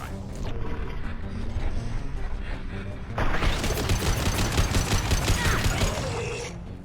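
Rifle fire from the Mass Effect 2 video game breaks out in loud, rapid repeated shots that follow a stretch of quieter mechanical game sounds.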